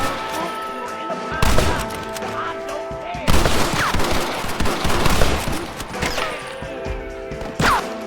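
Repeated gunfire from the Western video game Red Dead Redemption, set around a bank robbery shootout, with bursts of shots and crashes coming in loud clusters over a continuous game soundscape.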